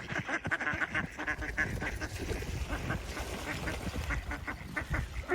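A flock of ducks in a snowy mountain setting in North Carolina quacks continuously, with overlapping, rapid, fairly close calls and some goose-like honks throughout.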